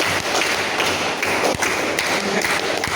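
A class claps a patterned rhythm together, with sharp, quick claps and taps in a steady repeating sequence filling a classroom from start to end.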